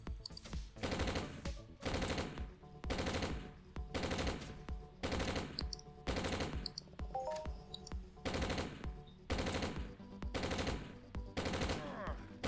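Gunfire in the online game Entropia Universe, in the Lahar swamp area: loud automatic bursts repeat about once a second in a steady rhythm for the whole stretch, with no talking.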